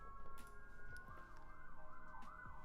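A distant emergency siren, likely a fire truck, wails in a rising and falling pattern that carries steadily through the clip over low background rumble.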